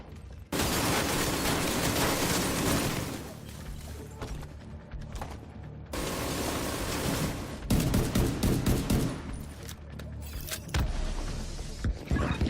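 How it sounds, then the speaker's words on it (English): A detonated ammo stockpile in a video game sets off a dense, continuous barrage of explosions and crackling gunfire, loud and close, with brief dips between the heavy bursts and no talking. "Found an ammo stockpile. I'm gonna detonate it."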